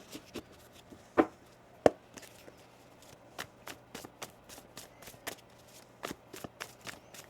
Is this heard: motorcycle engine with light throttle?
no